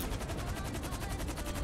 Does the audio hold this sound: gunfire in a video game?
yes